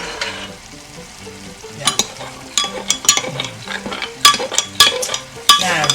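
A spoon stirs a crumbled OXO stock cube into a frying pan over a steady sizzle, with irregular scraping strokes and metallic clinks against the pan, close and fairly loud; one brief spoken word.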